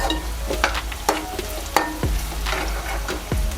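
Onions frying in a pan for a raw mango fish curry, a steady close sizzle broken by a few sharp metallic clinks of stirring, with no talking.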